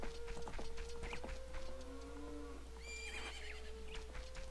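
A horse in the video game The Legend of Zelda: Ocarina of Time gives a clear whinnying neigh over steady game background music, with a few faint hoof clops and no talk.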